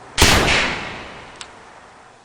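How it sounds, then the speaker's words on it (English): A Weihrauch HW97K .22 air rifle fired by a trigger solenoid gives a single sharp, close report that fades quickly, followed by a faint click about a second later. "So that the firing is untouched by human hands, a solenoid is mounted alongside the gun to pull the trigger."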